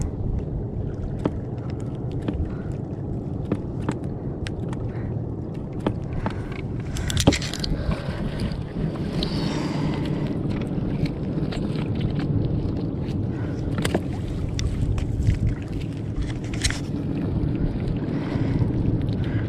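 A strong northeast monsoon wind roars across a fishing boat at sea, a loud, constant rushing buffet with occasional gusts and knocks, sustained for nearly twenty seconds without talk.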